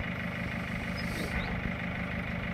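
An idling car engine during diesel particulate filter cleaning, its exhaust pushing out water, a steady, close chugging rumble with faint sputtering pulses in the cycles throughout.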